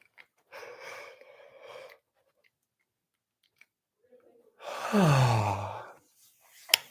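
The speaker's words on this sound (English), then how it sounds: "One more big yawn." A person gives a big, drawn-out yawn during a relaxation exercise, a long breathy exhale that falls in pitch and comes after a softer breath, close and alone.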